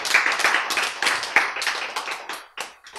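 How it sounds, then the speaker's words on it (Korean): Audience applause at a Korean health lecture on genes, a dense burst of many hands clapping close by that swells and then thins out over a few seconds. "박수!"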